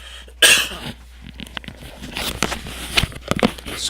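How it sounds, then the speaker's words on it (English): A man at his desk coughs, one loud harsh burst followed by several smaller rough coughs and throat clearing, close to the microphone, in a quiet room. "got a cough for a second"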